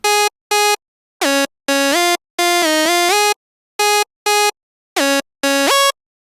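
Bright, buzzy Sylenth1 synthesizer lead with the bass removed and treble boosted, playing a choppy melody of separate short and held notes with pitch bends, loud and alone with no voices.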